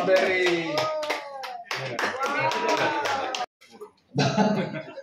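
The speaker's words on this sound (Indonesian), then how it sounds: "Oke, tepuk tangan." Applause at a ceremony opening a records centre, with hand clapping mixed under lively voices, some of them children's, that carry on throughout before a brief lull and a final burst.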